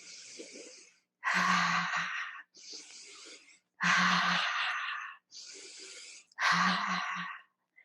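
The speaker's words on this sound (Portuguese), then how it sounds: "Deixa uma respiração que possa ser ouvida" Slow, audible breaths during a relaxation exercise alternate between soft airy inhales and louder, fuller exhales, repeating in a steady cycle about three times, close and alone.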